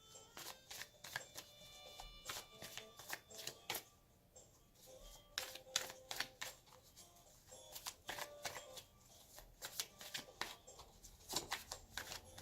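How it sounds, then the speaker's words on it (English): Tarot cards are shuffled up close in repeated quick bursts of riffling and flicking, with short pauses between rounds. "I just shuffle until really my intuition tells me that's enough"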